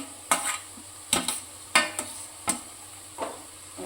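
Green garlic and green onion sautéing in a pan, heard as a series of about six distinct stirring scrapes at a loose, irregular pace over a quiet, low sizzle, close and moderately loud.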